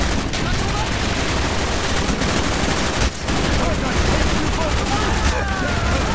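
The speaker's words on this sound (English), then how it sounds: "Wait, AK-47 with the flamethrower." AK-47 fitted with a flamethrower attachment firing in Call of Duty: Black Ops on PC, a dense, loud, continuous roar of fire and gunfire that barely lets up across the whole stretch.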